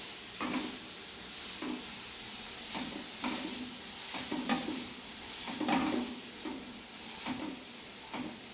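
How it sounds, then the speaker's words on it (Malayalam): A spoon stirs food sizzling in ghee in a pan, with a steady frying hiss and regular scraping strokes about once a second, close and fairly soft. "ഇനി നമുക്ക് ഇതൊന്ന് മിക്സ് ചെയ്ത് കൊടുക്കാം."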